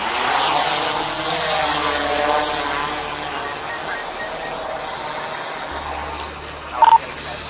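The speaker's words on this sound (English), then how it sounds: "the drone's up" A police drone flies overhead at night during a manhunt, giving a continuous whirring rotor drone with a steady hum that fades slightly over several seconds, ending with a brief clack.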